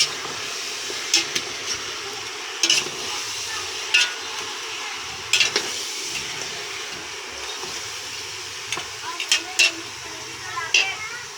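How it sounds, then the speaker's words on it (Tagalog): Meat from a large bird being stirred in a cooking pot, with scraping clanks of the utensil spread through a steady sizzling hiss, while a person talks over it. "halo-haloin lang natin muna"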